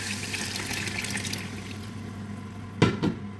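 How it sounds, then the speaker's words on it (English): A liquid mixture pours steadily into a pot of jollof rice with a soft splashing wash, ending in a couple of louder sloshes. "Pour in the mixture."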